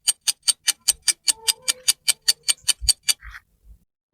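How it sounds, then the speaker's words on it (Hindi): A mysterious clock ticks in a steady, even rhythm of about five crisp ticks per second, close and clear. The ticking stops abruptly near the end, followed by a few soft thumps. "अबे घड़ी तो अब चल रही है।"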